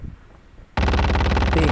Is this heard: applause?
no